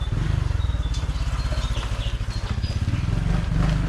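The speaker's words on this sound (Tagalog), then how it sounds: "yung mga motor natin, mga motorcycle dyan," Motorcycle engines rumble nearby on a street, a loud continuous pulsing drone with rhythmic low throbbing throughout, passing steadily without speech.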